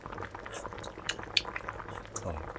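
Pork menudo with carrots simmering in a pot, a soft bubbling hiss broken by a few light clinks of a utensil against the pot, with faint voices in the background.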